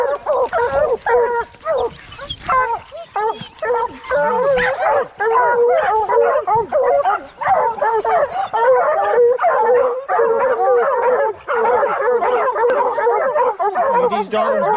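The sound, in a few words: hunting hounds barking and howling at a treed bear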